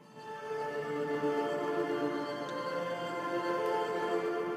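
Reversed synths run through automated effects and Ableton's Cathedral Reverb, producing a steady, washed-out sustained chord with a distant, spacious feel and rich harmonic layers, unbroken by any talk.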